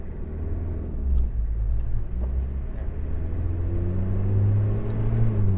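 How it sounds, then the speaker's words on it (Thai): A Toyota Hilux Mighty-X single-cab pickup pulls away from a standstill, its engine rumbling low and steady and rising slightly in pitch as it gains speed, heard close from inside the cab. "เดี๋ยวผมจะพามาลองขับตั้งแต่ออกตัวกันเลย"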